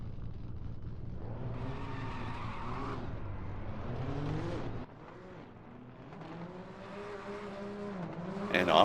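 A Nissan GT-R R35 drift car in a virtual drift championship video game at Misano gives a continuous engine howl with rising and falling revs and tyre squeal, ending in a sharp burst near the finish.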